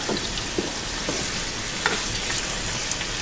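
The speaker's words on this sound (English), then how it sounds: "And I let this like saute a little bit." Chicken and onions sauteing all together in one pot, a steady close sizzle and crackle with small pops throughout, no talking.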